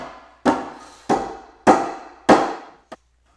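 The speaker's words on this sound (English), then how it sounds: "And you're going to hammer it in." Four loud, evenly spaced hammer blows ringing out with short decays as a part is driven into a log kayak rack, then a lighter tap, close up.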